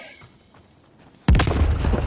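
A grenade going off in Call of Duty MW co-op, a sudden loud blast after a quiet stretch, with a rumbling decay that stays heavy to the end.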